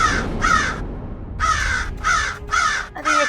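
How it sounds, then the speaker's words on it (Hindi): A crow caws in a run of harsh, nasal calls, two quick ones, a pause, then four more in steady rhythm, loud and close. "अरे ये कौवा कहाँ बोल रहा है?"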